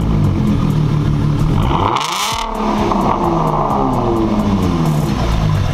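A Ford Mustang engine revs up hard, roaring loudly with a dip and rise in pitch around the middle, then settles into a steady, rumbling idle.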